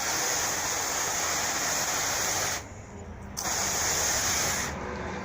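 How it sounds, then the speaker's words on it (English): A garden hose sprays water onto a car's sealed paint during mobile detailing: a loud, steady, close hiss that cuts off for about a second midway, then resumes and carries on to the end. "I'm gonna hit with the hose one more time"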